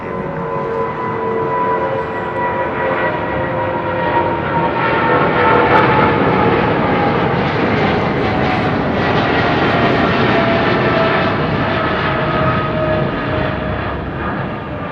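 A jet airliner roars on its take-off run at London Heathrow Airport, a loud, steady, broad engine rumble with whining tones that swells slightly midway and holds throughout.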